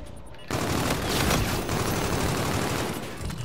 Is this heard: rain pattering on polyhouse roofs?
no